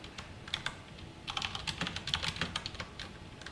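Quick, irregular keystrokes on a computer keyboard while code is entered in a React coding lesson, arriving in clustered bursts with short pauses, close and fairly clear with no voices.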